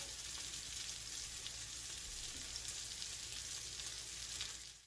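Potato croquettes, already cooked, frying in a pan to brown the outside: a steady, close, continuous sizzle of hot oil with fine crackling throughout and no talk.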